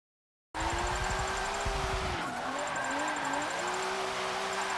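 A car drifts in the racing game Forza 7 on street tires, with a steady, loud engine drone and a wavering tire squeal running throughout.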